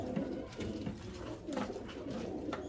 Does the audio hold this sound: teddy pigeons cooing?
yes